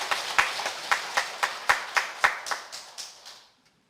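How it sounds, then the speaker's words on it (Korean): A Won Buddhist congregation claps in unison for doctors and nurses during a dharma talk: about a dozen evenly spaced, crisp claps in a steady rhythm that gradually soften and stop. "그분들을 위해서 박수를 좀 쳐주시면 좋겠습니다."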